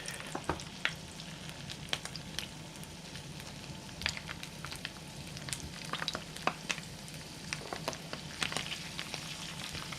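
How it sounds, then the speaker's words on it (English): Chipolata sausages sizzle steadily in hot oil in a pan, with constant crackling and small pops throughout and no talking. "They're sizzling away nicely."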